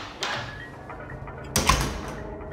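In the game Cry of Fear, a faint mechanical clunk followed by a louder grinding, ratcheting burst of an unlocking mechanism that fades out, over a quiet low hum.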